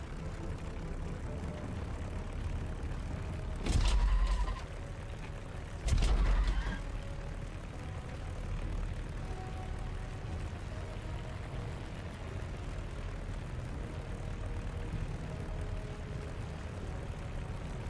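An airplane engine drones steadily during takeoff in the War Thunder video game, a continuous rumbling hum with two brief louder thumps early on, fairly quiet overall.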